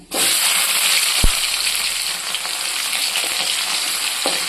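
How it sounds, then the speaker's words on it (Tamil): Steady, dense sizzling of shallots and garlic sautéing in hot oil, loud and close, with a couple of brief clicks and knocks from stirring. "சின்ன வெங்காயத்தையும் பூண்டு பல்லையும் நல்லா வதக்கிக்கிடுவோம்"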